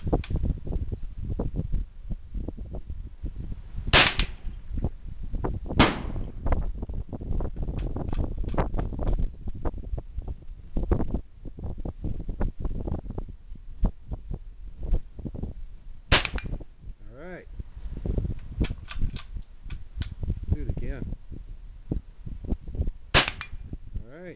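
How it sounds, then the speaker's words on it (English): Gunshots ring out at an outdoor shooting range aimed at a steel plate, a few sharp isolated cracks spaced several seconds apart over a steady rustling, windy background. "Shoot that steel plate."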